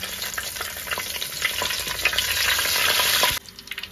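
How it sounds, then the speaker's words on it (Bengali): Cardamom, cloves, cinnamon, bay leaves and whole garlic crackle and sizzle loudly in hot oil for a handi mutton curry, a dense close frying hiss with spatters that cuts off abruptly near the end. "তেলটা গরম হয়ে গেছে। এবার এর মধ্যে আমি এলাচ, লবঙ্গ, দারচিনি ফোড়ন দিলাম"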